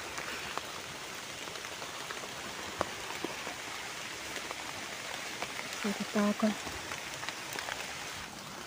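Rain patters steadily in a forest during mushroom foraging near Ban Pueai, a soft, continuous hiss of drops, while a person speaks briefly nearby.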